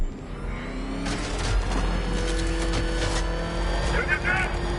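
A car engine hums and revs steadily with road noise in the video game Batman: Arkham Knight, drowning out the background; a faint voice comes in near the end.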